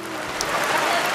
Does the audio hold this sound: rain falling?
yes